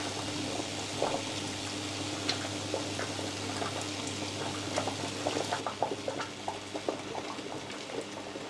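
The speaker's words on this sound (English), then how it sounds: "we'll add water to a pot and bring it to boil" Water coming to a boil in a cooking pot before cabbage leaves go in for blanching, a quiet steady bubbling hiss with small pops and gurgles.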